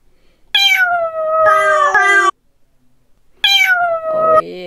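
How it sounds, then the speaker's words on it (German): A loud, close cat meow sample, two long drawn-out meows separated by a short silence, each clear and tonal with a wavering, falling pitch. "Und dann dieses tolle Miau"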